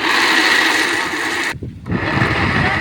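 Blender grinding soaked soybeans for homemade soy chunks, a loud close whirring motor that cuts out briefly, then restarts and runs on at full power.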